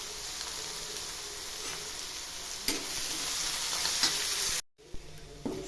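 Green chillies and curry leaves sizzling in hot oil, a steady bright hiss with a couple of stirring clicks, cutting off abruptly near the end before resuming more faintly.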